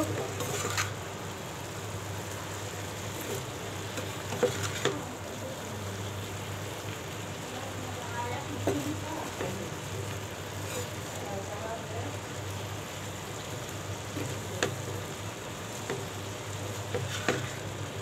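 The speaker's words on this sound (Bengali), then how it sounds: "লবণ দিব, দিয়ে ভালো করে কষে নিব।" Spices and salt being stir-fried in a pan for a small fish curry with water lily make a low, continuous sizzle that runs the whole time, with occasional soft scrapes of stirring.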